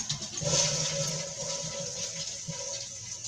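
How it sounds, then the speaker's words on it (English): A toilet flushes nearby in a bathroom: a steady, full rush of water that holds even for several seconds and then eases slightly as the tank starts to refill, with no voices. "Sitting on the toilet. Now flush."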